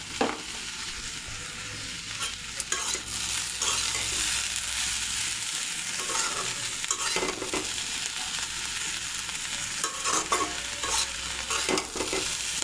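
Radish and potato curry with mola fish frying in a pan with chopped coriander, stirred steadily throughout, a continuous close sizzle broken by scraping spoon strokes, no voices.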